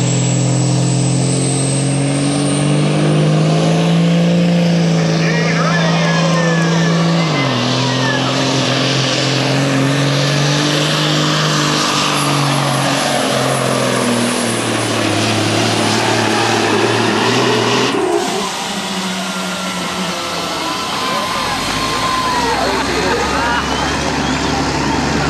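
A V12 Detroit diesel big rig truck makes a full pull at a truck-pulling event, its engine roaring loud and close with rising and falling tones and sharp gear-change drops, while an announcer's voice is partly heard over it.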